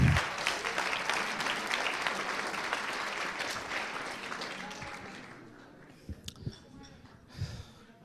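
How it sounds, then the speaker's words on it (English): An audience at an agile conference talk applauds the volunteers with sustained clapping that fades out midway, followed by quieter room sounds and a few scattered noises near the end. "big applause for the volunteers"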